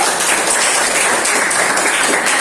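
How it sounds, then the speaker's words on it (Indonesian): A class of students applauds a presenting student group in a physics lesson, with loud, dense, continuous clapping filling the room. "Beri tepuk tangan dulu untuk kelompok 1"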